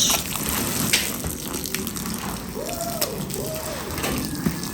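Household tap water runs with weak pressure, a steady splashing gush that continues throughout with small fluctuations, while faint voices sound in the background.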